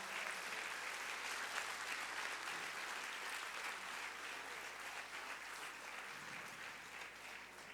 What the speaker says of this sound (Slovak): A ja si práve v tejto chvíli dovolím poslať vďaka vám obrovský potlesk našim technikom.